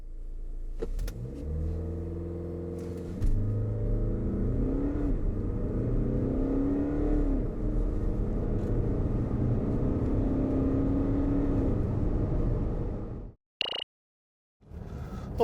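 A Volkswagen Tiguan 2.0 TDI 4Motion diesel accelerates hard, its engine note climbing through successive gear shifts in a steady, moderately loud drone before it abruptly drops away.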